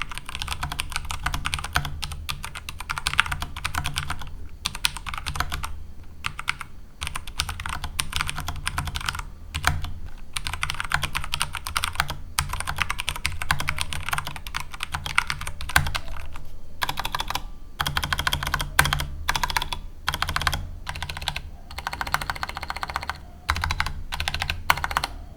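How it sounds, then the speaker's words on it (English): A mechanical keyboard with brown tactile switches is typed on continuously at close range, producing dense, even clacking keystrokes with brief pauses and no voices. "I don't like brown switches. It's not the keyboard's fault. I'm just not a tactile switch guy."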